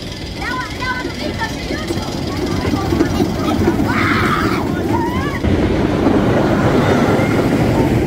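Riding in the back row of Falken, an S&S wooden roller coaster, brings a loud, steady rumble of the train on the track mixed with rushing wind buffeting the microphone, while voices can be heard over the noise.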